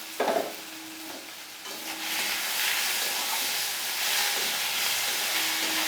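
Chopped tomato and chili hit hot oil in a pan, a sharp initial splash giving way to a loud, steady sizzle that swells and holds close by.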